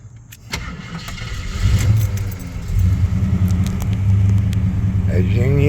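A 1987 Jeep Grand Wagoneer with a rebuilt AMC 401 V8 and added fuel injection cranks briefly and catches, then settles into a smooth, quiet, close idle, with a faint jingle of keys at the start.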